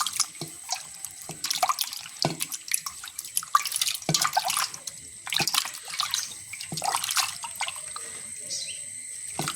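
A red aloe vera leaf is rinsed under a running kitchen tap, water splashing and spattering steadily with irregular drips and surges as the leaf is turned in the stream.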